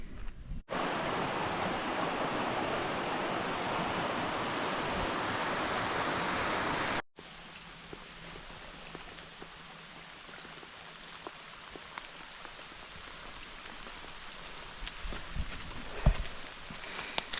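Heavy rain pounds a Vango F10 Xenon UL 2 tent during a wild camp, a loud, dense roar for several seconds that cuts off abruptly to a much quieter patter with scattered drips and light rustling.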